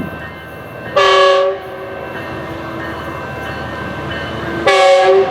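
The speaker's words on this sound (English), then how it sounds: "here comes Metrolink 115 now arriving at Glendale" Metrolink commuter train 115 arriving at Glendale station, its horn sounding twice in loud, steady blasts, the first about half a second long and the second near the end, over a constant rumble of rolling rail cars.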